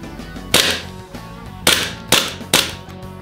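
Four sharp gas blowback shots from an Armorer Works Hudson H9 airsoft pistol, loud and close, fired in quick succession with brief ringing tails and no talk.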